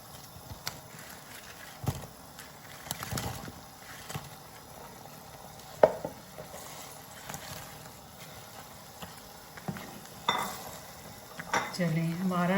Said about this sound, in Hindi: तो इसमें अब मैं अपना चिकन डालूँगी।